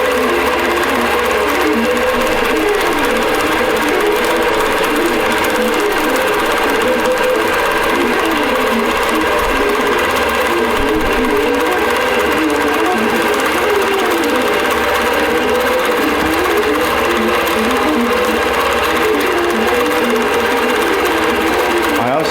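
A sewing machine runs steadily through free-motion quilting, its fast continuous needle hum and mechanical chatter staying loud and close the whole time, with a voice talking over it.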